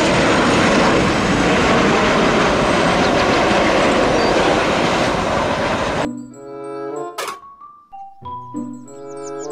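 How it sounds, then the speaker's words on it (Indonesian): A loud, steady electronic jet roar from a toy plane fills several seconds, then cuts to a short run of bright beeping tones and whooshes. "Pesawat terbang."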